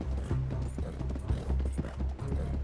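Horse hooves clip-clop in Red Dead Online, a steady quick rhythmic trot of close, low thuds with faint tack and mechanical rattles and no talk.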